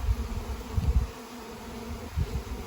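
Honey bees buzz around their colony, a close, low, wavering hum that swells and fades in irregular pulses with no voices present.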